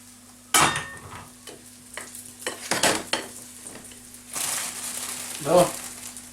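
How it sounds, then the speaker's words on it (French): Quince pieces fry in a pan with a soft sizzle, broken by scraping stirs and occasional clatter from a utensil against the pan, all close by. "Et vous les faites frire exactement comme vous feriez frire des carottes."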